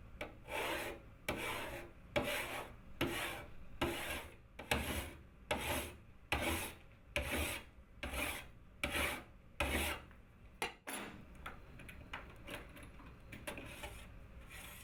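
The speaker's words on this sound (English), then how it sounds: "a copper metal plate is cleaned and the edges are beveled" A hand file rasps across the edge of a copper printing plate to bevel it, about a dozen steady back-and-forth strokes in an even rhythm, close and clear with no talk.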